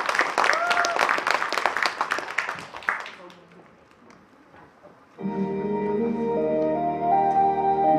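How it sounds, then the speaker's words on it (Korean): A small audience at a hobby music club concert hall claps briskly for about three seconds, the clapping fading to near quiet before a sustained tonal instrumental backing track begins. "힘찬 박수 부탁드립니다."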